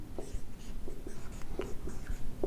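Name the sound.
writing a heading on the board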